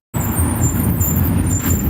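Truck running on the road ahead, heard from inside a following car as a loud steady traffic rumble with a high whine on top, starting abruptly.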